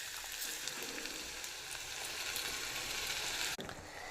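Tomato paste frying in a hot pan for pasta makes a steady, close, even sizzle that runs unbroken until a brief sharp dip near the end, with no voices.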